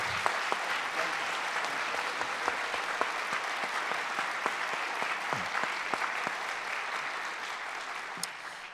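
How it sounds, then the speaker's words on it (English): A sustained round of applause from an audience at a talk event about girls' education, dense steady clapping with scattered sharper claps standing out, continuous and fairly loud throughout, with no voices over it. "So a great round of applause for Ken and Pat Warner."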